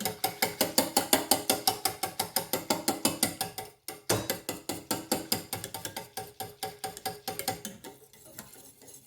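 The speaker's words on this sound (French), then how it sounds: "à l'aide d'un fouet pour bien les dissoudre" A whisk beats a coffee mixture in a bowl with rapid, rhythmic clicking strokes, close and steady, briefly pausing once before slowing toward the end.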